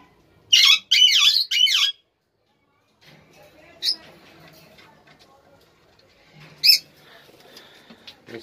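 Sharp chirps and squawks from lovebirds and budgies in a breeding cage ring out in a quick burst of three, then single calls later, with someone speaking quietly in between.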